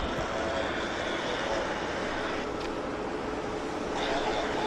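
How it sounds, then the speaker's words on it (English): Medevac Beechcraft King Air turboprop landing at Vancouver International Airport, a steady, fairly loud engine roar held throughout without a break. "No, it's a Medevac King Air, actually."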